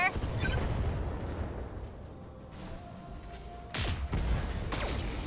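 Artillery and gunfire in a video game, a rumbling stream of blasts and rapid pops, with sharper bursts toward the end, heard behind excited talk.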